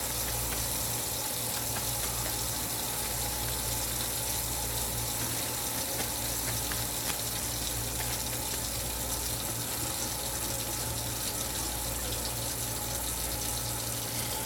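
Tap water runs steadily into a sink during handwashing, a continuous even splashing gush that lasts throughout with no pauses and no one speaking.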